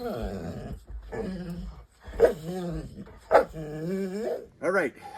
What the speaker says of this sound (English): Good morning, puppies.